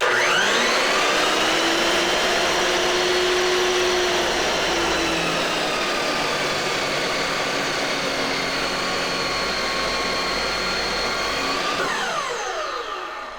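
A chop saw cuts through a clamped log, its motor whining loud and steady for about twelve seconds before spinning down at the end of the cut, with no voices.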